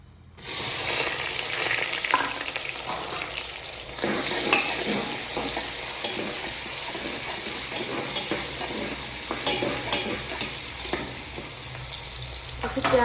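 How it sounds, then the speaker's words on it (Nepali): Onions fry and are stirred in a pan for a meat dish, a loud, continuous close sizzle with scraping and shuffling from the spoon running throughout. "म चाहिँ प्याजलाई मजाले चलाएर एकदम प्याज चाहिँ राम्रोसँग"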